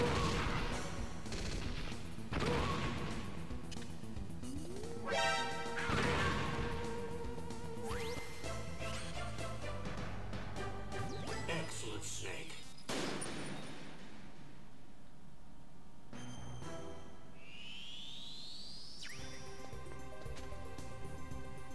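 Claymore mine explosions in the Metal Gear Solid VR Missions video game: a run of loud, broadband blasts and crashes close together, mixed with bursts of gunfire-like shots and electronic game effects, with no talking.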